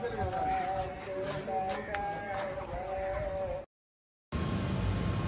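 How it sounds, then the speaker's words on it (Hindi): Small Beetal breed goats bleating close by, several short wavering cries over a busy outdoor farmyard background, then a brief break before the noise resumes. "ये दो बकरी ली हैं, छोटी छोटी हैं। ये बीतल नस्ल की है"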